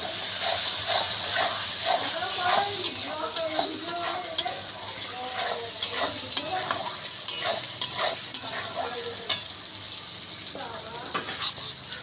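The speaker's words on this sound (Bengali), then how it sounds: "পেঁয়াজগুলো বেশ ভালো করে লাল লাল করে ভেজে নেব।" Onions frying in a pan for a Bengali prawn dish, stirred steadily with a utensil: a loud continuous sizzle with repeated scraping and clinking of the spoon against the pan, no voices.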